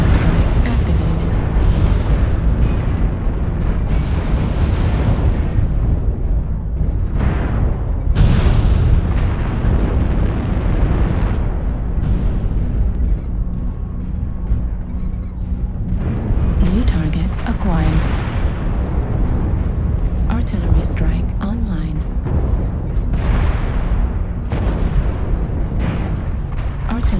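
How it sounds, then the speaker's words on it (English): Repeated artillery strike explosions in a combat video game, a dense run of booms and bursts layered over continuous loud game noise, with voices talking throughout. "Artillery strike activated."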